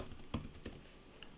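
A few sparse keystrokes tap on a computer keyboard, quiet and close, with irregular gaps between the clicks.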